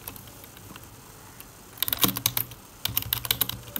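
Typing on a computer keyboard while a face detection program is written, quiet at first, then two quick bursts of close, rapid key clicks.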